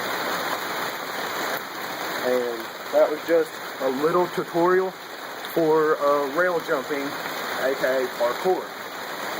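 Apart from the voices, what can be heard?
rain falling at night outdoors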